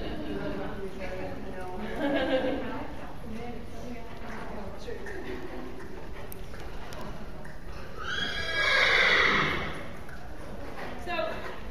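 A horse whinnies loudly up close, a long neighing call swelling near the end, with hooves clip-clopping and people talking throughout.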